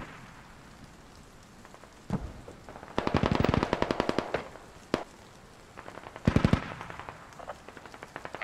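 Suppressive gunfire in the video game SquadOps: rapid bursts of automatic fire in several rattling volleys, loud and close, with single sharp shots between them and quiet gaps.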